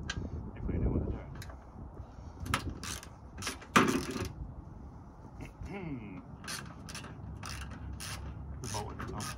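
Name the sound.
ratchet undoing bolts on Astra VXR front wing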